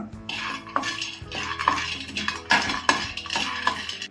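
Peanuts roasting in a pan and stirred with a utensil in a North Karnataka kitchen, giving repeated scraping and rattling strokes, close and clear, with no voices.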